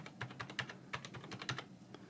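Someone types on a computer keyboard, entering details into an online form: quick, irregular bursts of soft key clicks, faint and close, with no talk.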